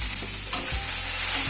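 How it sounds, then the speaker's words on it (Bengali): Drumstick vegetables frying and sizzling in a pan while being stirred, a steady close hiss with a couple of brief scraping clinks from the spatula. "নেড়ে দিচ্ছি। সবজিটা অনেকটাই কিন্তু ভাজা ভাজা মতো হয়ে এসছে"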